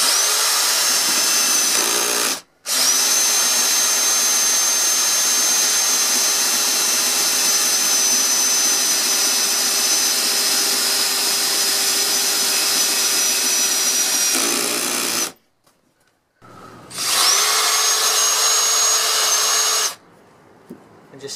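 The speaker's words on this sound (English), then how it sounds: "All I need to do is just drill straight in on each piece and then through the legs" A power drill with a number 13 bit bores straight into wood pieces and shed bench legs, whining loud and close in one long steady run of about twelve seconds, then a second shorter run after a brief pause.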